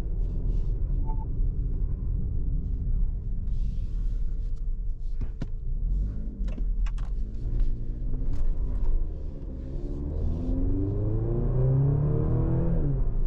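Maserati Grecale Modena SUV driving off, its engine and exhaust rising in a steady rumbling surge as it accelerates, with rising pitch sweeps toward the end, heard from inside the car.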